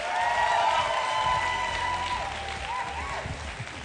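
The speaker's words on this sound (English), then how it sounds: "Please give them the biggest round of applause." Audience applause and cheering at the Mister South Africa 2024 pageant grand final, a dense, steady clatter of many hands filling the hall, mixed with faint music tones and some crowd voices.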